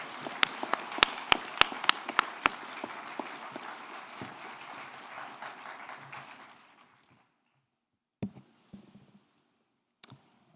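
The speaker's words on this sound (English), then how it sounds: "Let's have a large round of applause for all the new EC students." Audience applause at a St. John's College Santa Fe fall convocation, a dense round of clapping with sharp close claps that fades out after about seven seconds, leaving a few stray claps in near silence.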